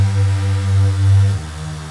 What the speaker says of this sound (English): So without it and the distortion, it sounds like this.